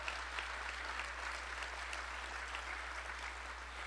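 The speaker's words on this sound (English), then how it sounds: "That deserves a round of applause." A crowd at a city State of the City address claps steadily, a dense patter of applause with a low hum beneath it, continuing evenly throughout.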